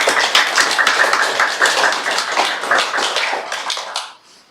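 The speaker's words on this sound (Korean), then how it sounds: "특별히 맡으신 분들을 위해서 박수로 격려해 주시기 바랍니다" A church congregation claps together in a sustained burst of dense, loud applause that fades out at the end.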